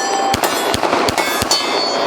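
Sharp, loud pistol shots from a Glock-style handgun fired at a pumpkin target outdoors, five evenly spaced cracks about every third of a second with brief echoes between.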